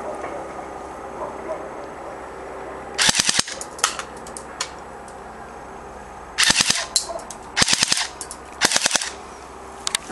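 Cyma G18 airsoft pistol firing fully automatic, three or four short rattling bursts of rapid clattering shots, loud and close over a steady background hum.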